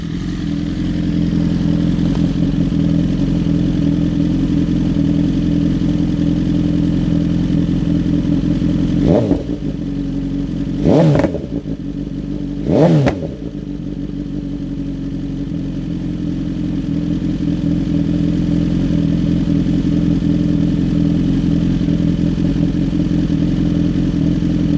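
A Gen3 BMW S1000R with a Dominator exhaust, baffle removed, idles loudly and steadily, then three sharp throttle blips rise and fall before settling back to a deep, even idle.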